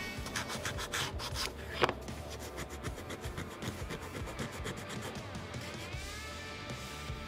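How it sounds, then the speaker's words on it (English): A flex shaft tool fitted with a sanding drum grinds and rasps into wood, carving out the crest of a helmet relief, with a steady abrasive rubbing buzz throughout and one sharp louder scrape partway through. "I'm using the sanding drum to carve the crest out"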